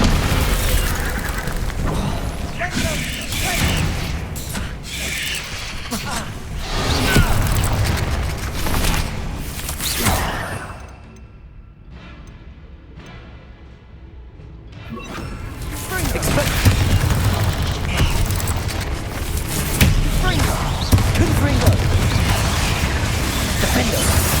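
Bombarda blasting-spell explosions in Hogwarts Legacy boom heavily and loudly through chaotic combat, dropping to a brief quieter lull in the middle before the blasts resume.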